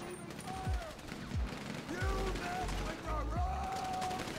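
Gunfire in the video game GTA V during a firefight, loud repeated shots and bursts over a constant game soundscape, with booming low hits recurring every half second or so.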